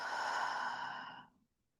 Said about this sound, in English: Deep breath in and deep breath out.